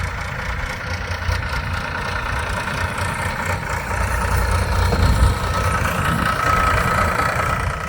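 A tractor engine idles steadily on a farm while manure loads are hauled, a low continuous rumble holding at an even level throughout with no voices over it.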